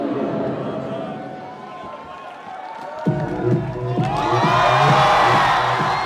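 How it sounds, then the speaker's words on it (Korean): A live audience at a figure skating show with Kim Yuna and Lee Si-young bursts into loud cheering and whooping after a rhythmic beat starts midway, filling the space as one crowd. "여러분 다시 한번 큰 박수 부탁드립니다"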